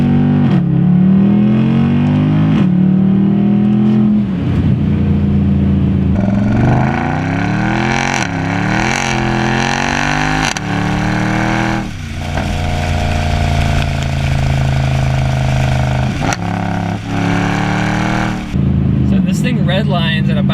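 Straight-piped Mercedes C63 AMG V8 roars loudly through hard acceleration and repeated gear pulls, its raw exhaust rising and falling in pitch, with someone talking over it.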